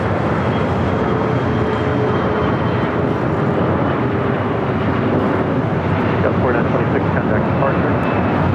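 A Kalitta Air Boeing 747-400 arriving from Anchorage passes overhead at LAX, a loud sustained engine roar filling the whole stretch, with voices talking beneath it.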